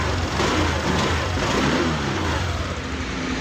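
A motorcycle engine running after troubleshooting, a loud steady close-up engine drone with a rough low rumble and constant hiss, holding even throughout with no talk.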